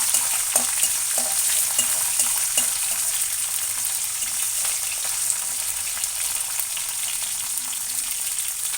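Onions frying in a pan with okra, potato and sweet corn for a fry curry. A continuous close sizzle comes with a few light spoon taps early on, and nobody speaks.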